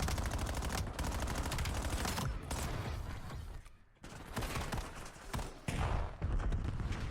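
Dense, rapid gunfire from a ranked Black Ops 7 gunfight, with loud bursts of automatic fire that briefly thin out near the middle and then resume at full intensity.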